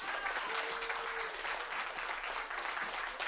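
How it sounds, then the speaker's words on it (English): An audience at a comedy roast show claps for the host, dense steady applause filling the room at moderate loudness with no break. "Big round of applause."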